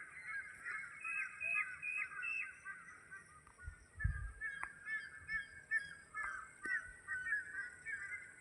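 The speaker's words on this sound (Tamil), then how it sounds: "பறவைகள் சுத்தம் மட்டும் கேட்கும்." Many birds chatter and call together at once in a continuous, busy chorus at moderate distance as they settle to roost in coconut trees in the evening. A single dull thump sounds midway.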